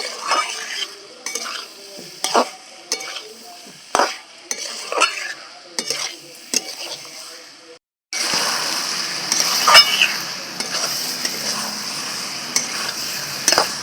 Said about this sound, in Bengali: পটল আর আলু দিয়ে ভালো করে কষিয়ে নেব